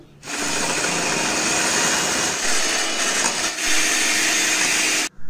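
An electric whipper beats chilled cream for mango ice cream, a steady, loud motor whir with a rattling, buzzy edge that runs nearly unbroken for about five seconds before cutting off abruptly.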